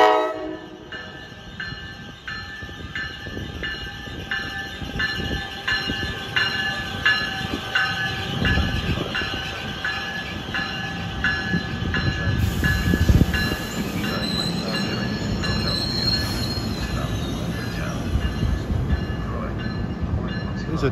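A SEPTA train rumbles past on the rails with steady clattering and squealing wheels, a long continuous pass that stays loud throughout, with no one speaking.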